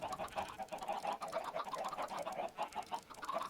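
Chickens cluck repeatedly in a blocky crafting game world, a steady busy run of short clucks and calls from several birds at moderate volume, with no talk over them.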